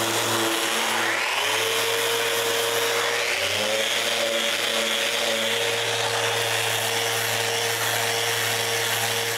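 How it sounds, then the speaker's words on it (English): A power sander runs continuously on a wooden bandsaw, a steady loud whirring hum with a couple of rising pitch sweeps as it spins up, alone with no talk. "The first thing I do is sand everywhere again."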